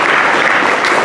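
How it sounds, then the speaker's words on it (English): Dense, steady applause from an assembly crowd honoring a high school student, filling the space loudly and continuously without pause. "we will send her a big round of applause"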